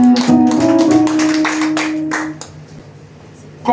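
A church congregation claps and cheers for Jesus, a dense burst of applause that tapers off after a couple of seconds, with a sustained tone running underneath.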